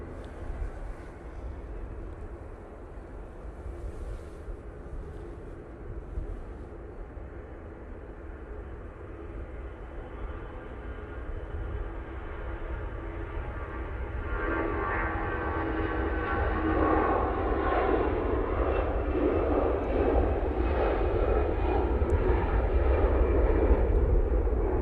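easyJet jet engines at Manchester Airport spool up for takeoff, a distant broadband roar that steadily swells and grows brighter over about 25 seconds, with no voices.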